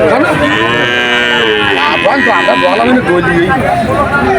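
A calf moos loudly and steadily at Shahpur cattle market in Khulna, a long close bellow with the murmur of the crowd faint behind it.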